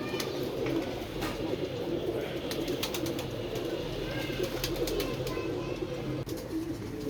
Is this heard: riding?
no